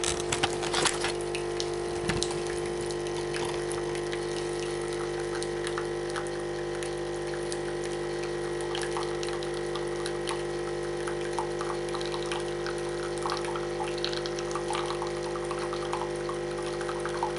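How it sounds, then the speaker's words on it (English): A Nespresso Krups CitiZ XN760B40 coffee machine brews a lungo capsule, its pump giving a steady mechanical hum and liquid pouring sound that runs continuously at close range, with a few clicks near the start. "now we're going to start the coffee off. So I'm going to use the Lungo size again."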